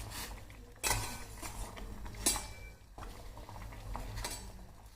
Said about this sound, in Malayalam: നമുക്കിതൊന്ന് ഇളക്കി കൊടുത്ത് നോക്കാം.